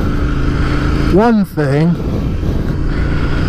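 A Royal Enfield motorcycle with 692 miles on it idles and runs with a steady low engine thrum, while a voice briefly speaks over it near the middle.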